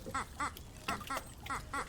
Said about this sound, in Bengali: কাছে কিছু হাঁস জলে ভেসে বেড়াচ্ছে আপন মনে।